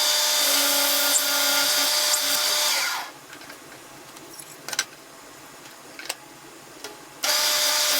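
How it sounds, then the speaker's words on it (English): A power drill whines steadily for a few seconds drilling holes in wood, then stops; faint clicks and handling knocks follow before the drill starts up again. "So we'll drill these holes next."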